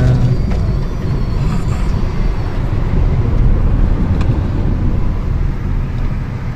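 Steady engine and road rumble from inside a moving 2008 Suzuki Neo Baleno automatic passing through a toll gate, a continuous low drone with faint clicks and no talking.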